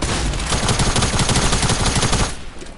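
Rapid, loud bursts of gunfire from a hunting rifle in a video game, a dense run of close, sharp shots filling nearly three seconds before cutting off.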